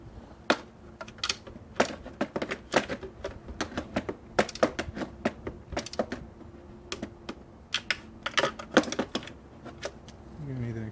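A socket wrench with a deep socket ratchets on the oil filter housing of a BMW E90, E92 or E60. The rapid, irregular clicks come close up in repeated bursts.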